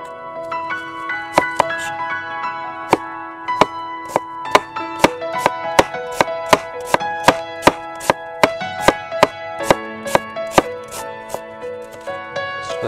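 A knife chops onions on a board in quick, steady, crisp strokes, close and clear, with a faint musical background underneath.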